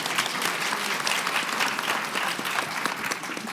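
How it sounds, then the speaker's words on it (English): An audience at a conference session gives a sustained, even round of applause welcoming a speaker back to the stage, dense clapping from many hands filling the hall throughout. "Let's give her a warm round of applause."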